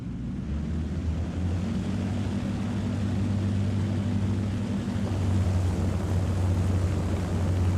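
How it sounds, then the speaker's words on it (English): Heavy bomber with contra-rotating propellers in the video game War Thunder, a steady low droning engine and propeller hum that swells slightly toward the end, with no other sounds. "I thought it was going to be louder with the contra-rotating props"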